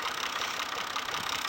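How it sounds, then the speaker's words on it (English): Ford 4000 45hp diesel tractor engine running steadily during vertical tillage, a continuous broadband rumble at a constant level with no breaks, heard alone without any voices. "This little tractor's running great today, and it's actually good for a diesel to work it a little bit, get it hot."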